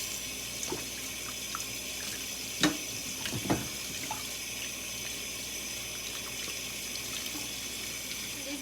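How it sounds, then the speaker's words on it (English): Cold water pours steadily from a kitchen tap while bones are rinsed for a Lao soup, a continuous close splash with a couple of brief knocks in the sink. "Clean with the cold water"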